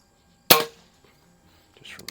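A single sharp crack from a Feinwerkbau model 65 Olympic-grade air pistol fired offhand on an outdoor range, loud and close, followed by a quiet pause and a faint rustle near the end.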